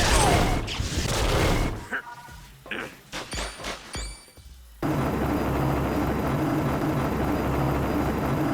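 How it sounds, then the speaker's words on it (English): A helicopter in the video game Marvel: Ultimate Alliance strafes the deck, with thudding impacts and mechanical clatter at first, then a steady loud rotor drone that carries on to the end. "a helicopter keeps strafing the deck"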